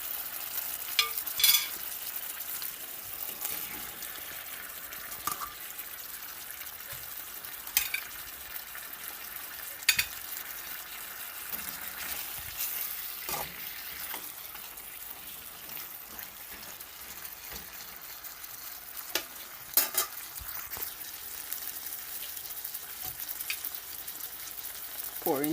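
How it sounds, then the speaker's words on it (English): Jamaican curry chicken frying with seasoning in a pot, stirred with a utensil: a steady sizzle runs throughout, broken by sharp scraping and clinking strokes every few seconds, close and moderately loud. "Give it a stir."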